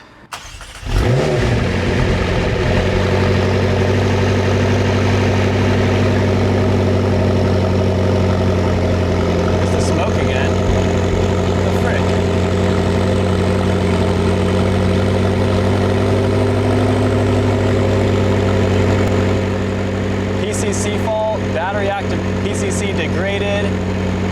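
A $38,500 McLaren with suspected engine trouble cranks briefly, then catches and settles into a loud, steady, close idle with a deep rumbling hum. The idle holds evenly for about twenty seconds before easing slightly lower toward the end.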